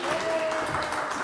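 Brief burst of audience applause on a blind-dating show set, a dense, near clatter of clapping lasting just over a second with faint background voices mixed in.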